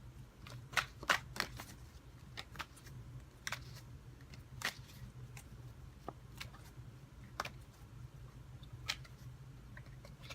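Tarot cards being shuffled, a faint series of quick, papery riffles and taps scattered irregularly over a low steady background hum, with no talking.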